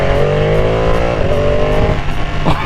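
Ducati Panigale V2 sport motorcycle engine in race mode, revving loud and close with steady rising pitch, a brief dip as revs climb again, then a sharp shift blip near the end.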